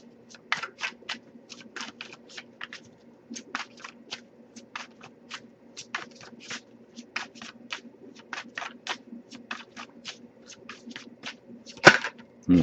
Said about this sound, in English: if I shuffle for a while without anything coming out, I'll just take that as a sign to move on to the next deck